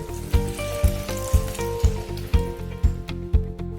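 Masala frying in oil in a pan for a Karaikudi fish curry, a steady crackling sizzle with rhythmic scraping stirs about twice a second, close and alone without voices.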